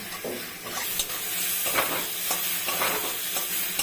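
Mashed pointed gourd and bottle gourd frying dry in a pan, a dense, loud, continuous sizzle broken by repeated scraping strokes of a spatula stirring close up.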